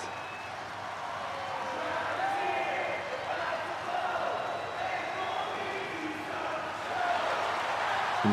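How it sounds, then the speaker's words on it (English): Arena crowd in the WWE 2K26 wrestling video game, a steady loud roar of cheering that swells in places, with a commentator talking over it. "The crowd is up for Cody Rhodes tonight."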